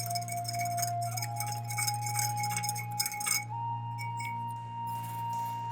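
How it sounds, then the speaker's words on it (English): Spoon stirring a glass of crystal-growing solution in a home kitchen, light clinks and scraping against the glass over a steady low hum, fairly quiet and close. "I'll give it a good stir."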